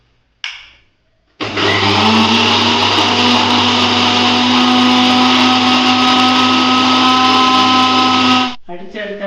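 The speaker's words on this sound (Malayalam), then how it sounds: "പീസാക്കിയ ഡ്രാഗൺ ഫ്രൂട്ട് മിക്സിയുടെ ചെറിയ ജാറിലിട്ട് അടിക്കണം." A mixer grinder's small jar blends chopped dragon fruit without water. There is a brief pulse, then a loud, steady, high-pitched motor whine that runs for about seven seconds before cutting off.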